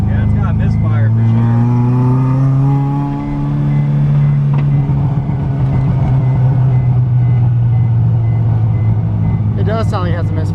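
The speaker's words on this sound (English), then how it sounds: "It does sound like it has a misfire" A car engine with a misfire idling loudly up close, its low uneven drone wavering in pitch, with people talking over it.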